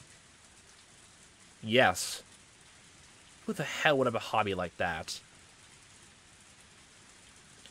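Rain falls on a dark night in the game Higurashi: When They Cry, a soft steady hiss running low beneath a voice that speaks in two short bursts.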